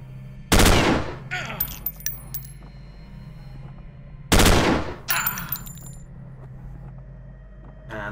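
Two loud bursts of gunfire from the turn-based sci-fi game Stellar Tactics, each a sharp blast followed by clinking shell-like rattles, separated by a few seconds of low hum.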